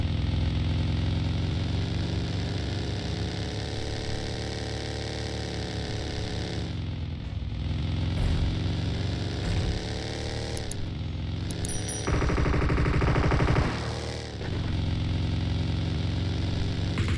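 A motorcycle engine in the mobile game PUBG Mobile drones steadily and loudly, its pitch wavering and briefly rising in a short rev near the end, with no voices over it.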